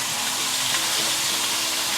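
Pork steak sizzles and crackles steadily in a frying pan, a dense, even frying hiss that stays loud and close for the whole stretch, with no talking over it.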